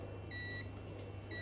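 A bread machine sounds its finished-cycle beep, two short high electronic tones over a quiet steady kitchen hum.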